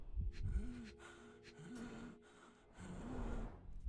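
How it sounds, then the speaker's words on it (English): A man gasps and struggles for breath in a series of strained, ragged inhalations and wheezy breaths, close and fairly quiet, with no talking. "He has trouble catching his breath."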